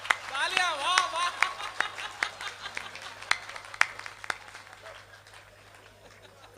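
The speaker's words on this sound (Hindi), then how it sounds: "तालियां, वाह वाह।" Audience at a Hindi kavi sammelan poetry gathering in Deshnok clapping in scattered, sharp claps, with voices calling out over them and a singing or chanting voice early on, thinning out and fading toward the end.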